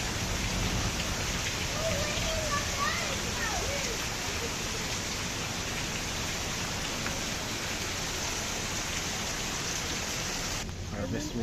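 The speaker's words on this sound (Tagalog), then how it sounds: "It's raining." Steady rain falls at a strawberry farm, a dense even hiss of drops close by that continues without pause, with faint voices briefly under it early on.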